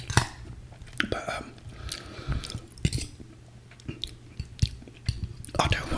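Close, wet chewing of spaghetti and meatballs, soft squishy bites and mouth noises repeating in an uneven rhythm, with light whispery breaths between bites.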